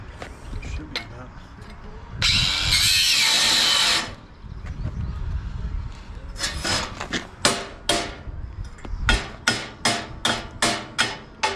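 Hammer blows ring on metal during trailer fabrication, a few scattered strikes and then a quick run of about eight sharp, evenly spaced hits near the end. A brief power tool whir and some talk come earlier.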